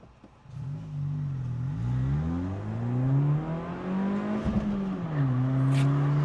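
A Honda Fit's engine pulls hard during a test drive, its steady rising tone swelling loud and close as it revs up through the gear, dips briefly at a shift, then climbs again.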